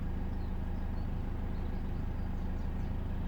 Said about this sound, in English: The car idles normal.